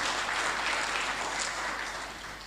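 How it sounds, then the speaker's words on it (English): Applause from delegates at a health ministers' conference in Lilongwe, Malawi, a sustained even wash of many hands clapping that fades slightly toward the end, with no voices over it. "Let's give ourselves a round of applause,"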